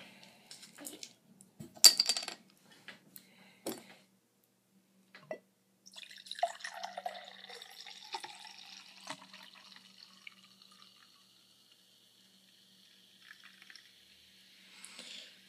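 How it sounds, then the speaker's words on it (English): Angry Orchard hard cider poured into a freshly washed, still-wet glass, giving a soft, faint trickling and fizzing stream after a few light clinks, alone with no talk. "Pours like a soda."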